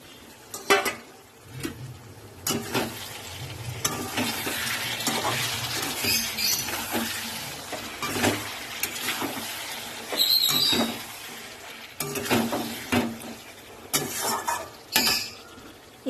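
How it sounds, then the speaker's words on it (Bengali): Fried chicken pieces tipped into cooked-down masala with softened tomato in a pan, followed by repeated spoon scrapes and metal clinks over a steady sizzle, with no talking. "এবার আমি মাংসটা যে ভেজে রেখেছিলাম এটা আমি এর মধ্যে ঢেলে দেবো"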